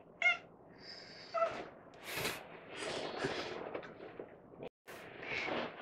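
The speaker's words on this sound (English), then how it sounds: "My cat would like to say hello." House cat meowing indoors, a few short close meows at the start followed by scattered rustling, thumps and vocal noises at moderate level, with no talking.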